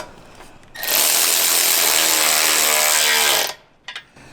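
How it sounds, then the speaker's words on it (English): A power tool drives a 15mm socket to fasten WARN-supplied hardware on a Jeep JL Wrangler front winch bumper, one loud sustained whir of about three seconds, followed by a couple of brief clicks. "Using a 15mm socket and the hardware that WARN provides, we can go ahead and secure this now in place."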